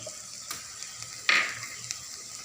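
Soya chilli frying in a pan as chilli, soya and tomato sauces are added, giving a steady close sizzle with a sudden louder hiss as liquid hits the hot pan, with no speech.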